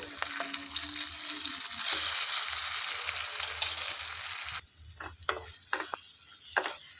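Ground lentil paste fries in hot oil with cumin, giving a crackling sizzle that runs steadily, then drops to quieter sputters and a few scraping stirs; no one speaks.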